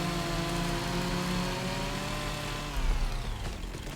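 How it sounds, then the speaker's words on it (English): Chainsaw cutting trees in the video game Farming Simulator 25, a steady droning engine hum with harmonic whine, faint and continuous, rising briefly near the end. "This guy's pretty good with the chainsaw"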